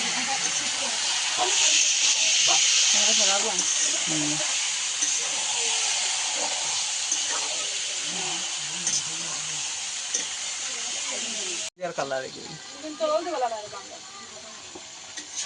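Chicken pieces sizzle and hiss in hot oil as they are stirred in a pan during home cooking, a steady frying hiss with a brief break near the end, while people talk over it.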